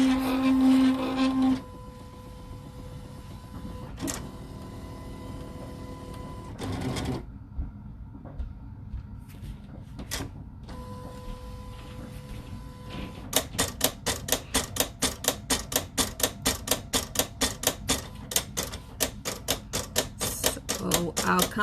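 A vinyl cutting machine cuts a birthday shirt design, giving a steady run of rapid mechanical clicks and ticks that gets denser and louder toward the end, with quiet motor whirring and brief pauses between passes.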